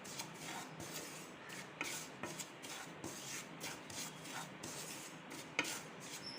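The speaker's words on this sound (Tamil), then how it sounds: "நல்ல ரவையை வறுத்து எடுத்துக்கலாம். ரவையை நல்லா வறுத்தாச்சு." Semolina (rava) being dry-roasted and stirred in a pan for payasam, giving a steady close scraping and rubbing texture with small shuffling stirs, no talk over it.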